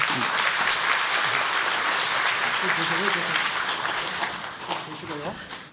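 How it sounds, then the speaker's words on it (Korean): A church congregation applauds during a founding-anniversary Sunday service, a dense sustained clapping that fills the room, with some voices audible under it and the applause tapering near the end. "우리 한 박수 한번 부탁하겠습니다"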